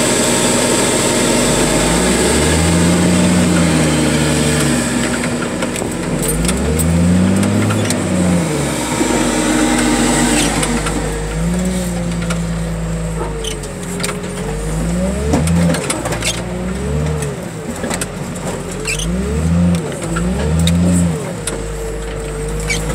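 A battered junk car with doors missing drives slowly around a salvage yard, its mid-pitched engine revving up and easing off in repeated swells, loud and close, with a steady rumble beneath and scattered clanks.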